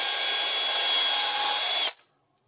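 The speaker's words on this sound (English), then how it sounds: "I'm going to take that piston, chuck it in a drill, and I am going to thin that bad boy." A power drill spins a chucked Panzer M4 shotgun piston for thinning, a steady high whir close by that runs for about two seconds and then stops abruptly, leaving silence.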